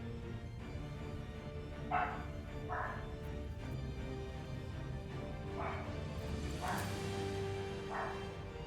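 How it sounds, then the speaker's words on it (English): A pet dog barks several times in short separate bursts at moderate distance, behind steady game music and background hum. "Sorry if you can hear my dog barking."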